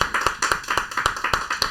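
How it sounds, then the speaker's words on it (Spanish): A church congregation claps in a quick, steady rhythm, each clap crisp and fairly close, continuing without a break. "démosle un aplauso ahí al Señor"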